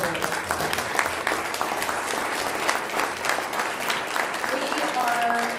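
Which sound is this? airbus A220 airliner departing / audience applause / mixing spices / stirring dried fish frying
audience applause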